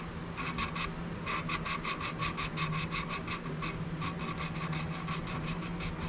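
An engine valve is lapped against its seat in a 1968 Fiat 850 Spider cylinder head, making a rapid, regular rasping grind in back-and-forth strokes, close and steady, with a brief pause partway through.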